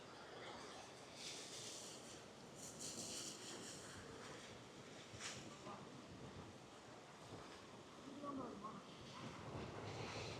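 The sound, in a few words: sea breeze wind at the old port jetty, Pondicherry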